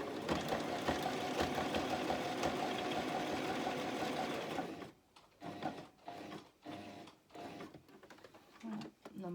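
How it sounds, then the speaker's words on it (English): A sewing machine runs a triple stitch on a romper hem, whirring steadily and loudly for a few seconds, then stops and gives several short, separate bursts. "Let's get that sewing machine out and do that."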